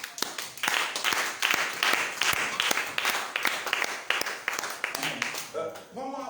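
Congregation at a Bible seminar breaks into sustained applause and cheering to acclaim the Lord, a dense wash of clapping with sharp individual claps standing out, fading as a voice enters near the end.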